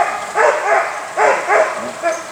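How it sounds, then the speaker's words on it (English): Alaskan Husky sled dog at a musher's kennel in Skagway, Alaska, giving a few loud, close whining barks and yips in a rhythmic series of about five calls. "This is an Alaskan Husky."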